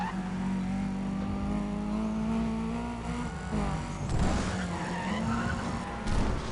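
A car in Need for Speed Undercover skids with a long tire squeal over a steady engine drone, then revs and slides again, loud and close with no talk.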